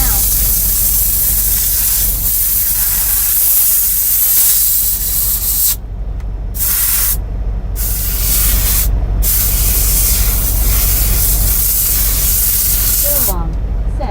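Spraying from an aerosol or spray bottle while drying a floor inside a truck cab, steady hissing bursts over a constant loud engine drone, with talk nearby.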